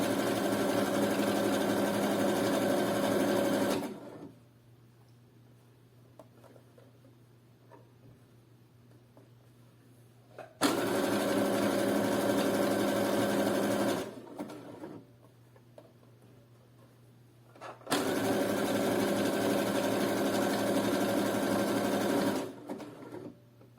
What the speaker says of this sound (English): sew straight down with your zigzag stitch